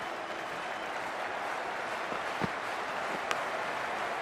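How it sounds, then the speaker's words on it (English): A cricket crowd at an IPL 2025 match between LSG and GT applauds in a steady, dense wash of clapping and crowd noise, with a few sharper claps standing out. "already the crowd is up and about"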